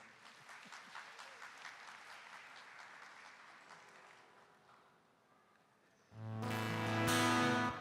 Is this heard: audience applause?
yes